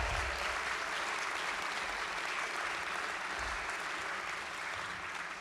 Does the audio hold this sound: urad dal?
no